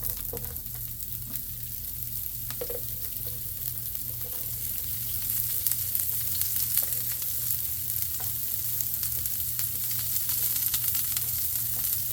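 Onions sizzle and fry steadily in oil in a hot pan for a smash burger taco, a continuous crackling hiss that grows slightly louder toward the end, with occasional scrapes and clicks and no talking.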